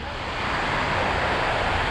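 Ocean waves on Repulse Bay Beach in Hong Kong, a loud, steady wash of surf filling the short stretch, with no distinct breaks between waves.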